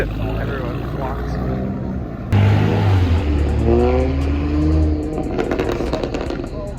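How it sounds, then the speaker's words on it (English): Car engines revving loudly at a car meet with a Toyota MK5 Supra present, a surging rev climbing and falling with turbo whoosh and hiss, close and strong, with people talking throughout. "Turbo noise."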